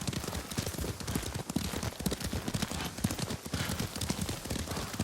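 Horse hooves clip-clopping at a steady trotting rhythm while riding through the countryside in the video game Ghost of Tsushima, continuous and close, with ambient outdoor noise throughout.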